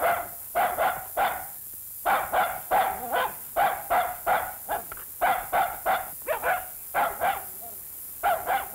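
A dog barks in rapid repeated bursts, sharp clustered woofs and yips coming close and loud in an irregular rhythm with short pauses between volleys.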